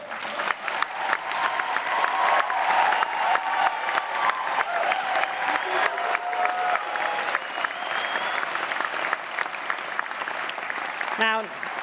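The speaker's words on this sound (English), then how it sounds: "One almost last round of applause." A graduation ceremony audience for the School of Health and Society breaks into sustained, dense applause that fills the hall evenly for the whole stretch, with a short tonal blip right at the end.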